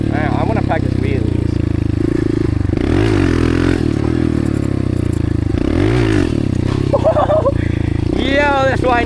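A dirt bike engine on a track during wheelie practice, a loud constant drone that rises and falls in revving sweeps, with people talking over it close by.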